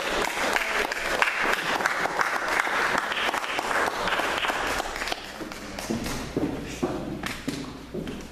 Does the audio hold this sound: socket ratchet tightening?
no